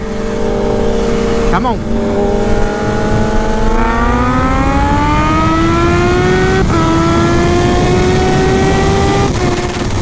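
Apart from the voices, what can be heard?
2020 Kawasaki Z H2 motorcycle accelerating in third gear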